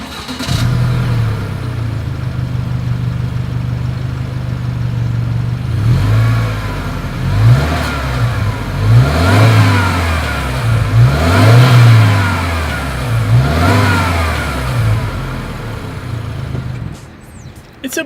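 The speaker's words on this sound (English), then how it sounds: "As always, here is that exhaust clip." A 2020 Subaru Outback with a turbocharged engine idles and then revs repeatedly through its exhaust, several loud rising and falling sweeps heard close up over a steady engine drone.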